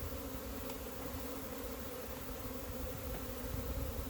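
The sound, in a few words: honey bees buzzing at an open hive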